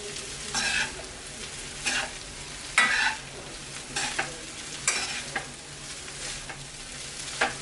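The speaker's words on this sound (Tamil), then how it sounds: "அதையும் நல்லா மிக்ஸ் பண்ணி விட்டுடலாம்." Veg hakka noodles with spring onions stir-fried in a pan: a soft sizzle under repeated scraping tosses, about eight rhythmic bursts of stirring, close and moderately quiet.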